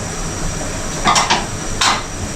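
Food is stirred in a cooking pot in a small hut during a flood, giving three or four close metallic scrapes and clanks of a utensil against the pot over a steady background hiss.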